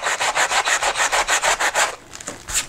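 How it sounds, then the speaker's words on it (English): Sandpaper is rubbed back and forth over a paper page in a mixed media art journal, a close, rhythmic rasping of about a dozen even strokes that then slows into a few scattered scrapes. "I'm going to just sand back this page"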